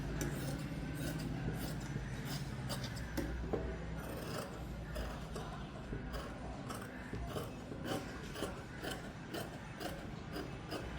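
Scissors cutting through stitched blouse fabric, a run of close, quiet rasping snips repeating in an irregular rhythm over a soft background hum, with no talking.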